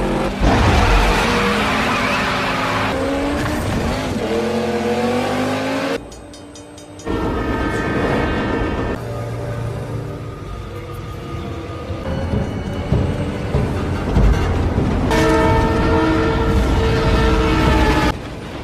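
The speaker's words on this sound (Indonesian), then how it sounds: "mereka pun balapan di sana hingga mencapai rel kereta api." Street-racing cars in The Fast and the Furious roar toward a railway crossing, their engines loud and close, pitch sweeping up through gear changes, with a brief drop in level midway before the revving resumes.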